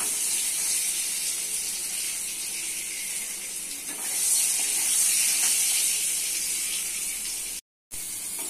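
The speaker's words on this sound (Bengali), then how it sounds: "তেল গরম হয়ে গেছে, দিচ্ছি পটলগুলো একটু ভেজে দিতে হবে" Pointed gourd (potol) frying in hot oil gives a steady, close hiss and sizzle that holds through the clip, swelling slightly midway before cutting off briefly near the end.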